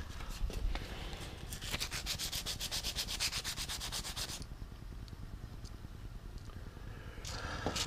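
Steady abrasive rubbing of sandpaper scuff sanding a tube, a rapid back-and-forth rasp, close and continuous, easing off partway before resuming.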